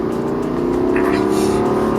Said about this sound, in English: The 3-liter inline-6 engine is plain fantastic.